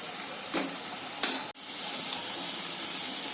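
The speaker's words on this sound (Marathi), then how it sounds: "वड्या तेलामध्ये व्यवस्थित लालसर अशा तळून घ्यायच्या आहेत" Alu vadi, colocasia leaf rolls, fry in hot oil with a continuous close sizzling hiss. Two brief bursts of louder spitting stand out before the frying settles into a steady crackle.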